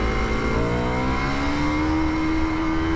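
A 400cc Ducati Scrambler Sixty2 motorcycle revs up through first gear toward its limit, the engine note rising steadily and loudly over three seconds with no pause.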